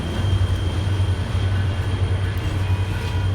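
The Grand Canyon Railway train running from Williams to Grand Canyon Village gives a steady low rumble and hum, constant and close, with no voices.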